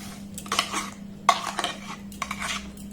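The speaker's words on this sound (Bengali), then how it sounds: "এবার ব্লেন্ড করে রাখা মিশ্রণটাকে এর মধ্যে আমি দিয়ে দেব।" A blended mixture of chenna and milk made from milk powder is poured into a pan for sandesh, with sharp metal utensil clinks and scraping in a few close bursts over a low steady hum.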